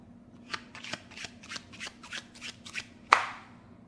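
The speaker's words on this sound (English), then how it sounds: "so I need to shuffle off 8 cards off the top." Playing cards are slid off the top of a deck one at a time, a quick run of about ten crisp riffling flicks, close and clear, ending in a sharper snap as the cards land on the pile.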